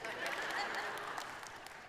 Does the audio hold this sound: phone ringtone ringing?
no